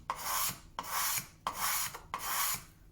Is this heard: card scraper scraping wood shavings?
yes